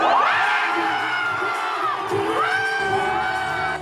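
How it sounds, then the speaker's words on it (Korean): Large crowd of citizens cheering and shouting as the Constitutional Court verdict removing the South Korean president is read; loud, sustained roar of whoops and yells, close and continuous, with overlapping excited voices. "주문을 읽자마자 함성이 터져 나옵니다"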